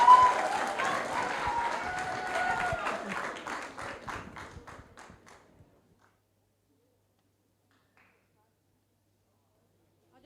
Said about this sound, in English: let's just give another round of applause and welcome our teams onto the stage